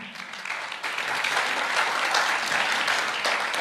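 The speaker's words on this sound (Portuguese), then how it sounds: "Uma salva de palmas, por favor." An audience at a Brazilian travel industry panel breaks into steady applause, a dense wash of many hands clapping that swells quickly and holds for several seconds.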